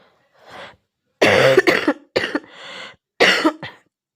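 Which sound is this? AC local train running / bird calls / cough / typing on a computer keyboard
cough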